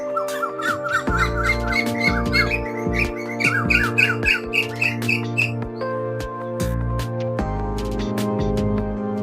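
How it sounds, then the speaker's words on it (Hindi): Birds chirp and squawk in a mango and date orchard in Khanpur, Rahim Yar Khan, with dense overlapping calls in the first half, then steadier whistled notes over a constant low drone. "परिंदे माशाल्लाह चहचहा रहे हैं यहाँ"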